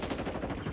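Video game gunfire during a ranked multiplayer match, a dense continuous burst of automatic shots that sounds close and loud throughout the short moment.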